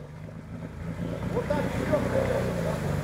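A Kawasaki Brute Force 750 ATV engine revs off road with a low, rumbling drone that builds and holds steady across the clip, partly buried under wind buffeting the microphone.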